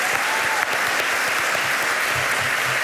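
Audience applauds after a talk, a dense, even wash of many hands clapping at steady loudness throughout, with a few low thumps mixed in.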